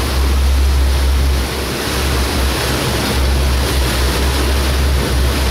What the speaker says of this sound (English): We are in a pretty good chop here, 4 foot waves.